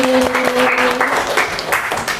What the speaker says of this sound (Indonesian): boleh beri tepuk tangan sekali lagi